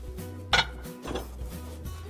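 Ceramic plates set down on a placemat in a home kitchen, a couple of distinct clinks and knocks over a low steady hum.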